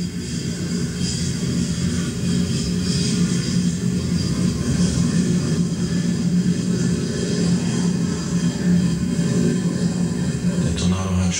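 German Navy Tornado IDS jet of the Marineflieger, in take-off configuration with slats and flaps lowered, giving a steady, loud, close engine roar and whine throughout, with a brief louder burst at the very end.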